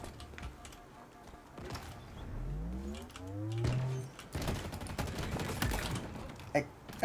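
Weapon fire from the Cindershot in Halo Infinite, a burst of sharp shots and crackling impacts with a rising whirring charge tone in the middle, loud and close, with game effects layered around it.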